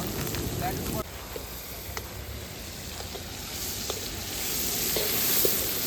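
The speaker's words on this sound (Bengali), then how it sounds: "আমাদের চিকেনটা চাপাবো, চিকেনটা রান্না বসাবো এবার।" Chicken sizzling and being stirred in a pan over an outdoor fire at a riverside picnic, a steady close frying hiss with occasional scraping of the utensil and faint voices in the background.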